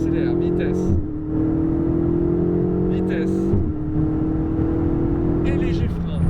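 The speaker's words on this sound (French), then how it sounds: "Allez, on accélère progressivement." A car engine holds a steady high drone on a race track, dipping twice as if shifting gears, then picking up again; a voice speaks intermittently over the engine.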